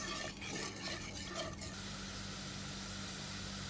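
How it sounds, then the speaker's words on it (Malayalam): Sugar and water syrup simmers in a pan, giving a quiet, steady bubbling hiss with a few soft stirring scrapes at the start and no voices. "ഇനി ഇതിനെ നന്നായി തിളപ്പിച്ചെടുക്കാം."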